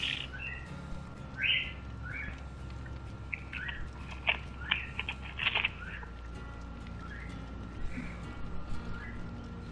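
A pet bird gives several short chirps and tweets in the room, scattered through the clip at moderate loudness over a steady low background hum.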